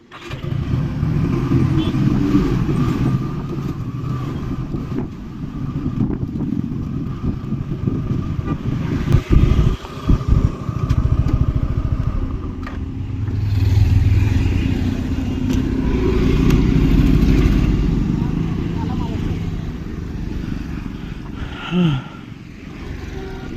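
A vehicle creeps forward on a city ride with a steady engine rumble, a few horn toots and traffic noise around it, and people talk at moments.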